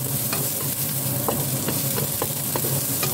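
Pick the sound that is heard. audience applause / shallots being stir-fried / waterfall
shallots being stir-fried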